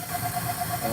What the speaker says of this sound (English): Y'all hear that? The air valve is on.